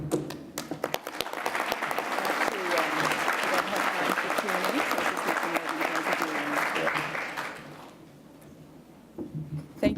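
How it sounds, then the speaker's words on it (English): Audience at a 2018 healthcare conference breaks into sustained applause, dense clapping building quickly and filling the room for several seconds before tapering off into near silence, with a few scattered claps and a voice starting near the end. "Can I get another round of applause for them, please?"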